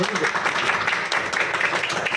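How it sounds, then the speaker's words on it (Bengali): A classroom of students applauds together during a live Indian geography quiz, a short burst of dense, steady clapping at moderate volume that lasts about two seconds. "হাততালি হাততালি হাততালি।"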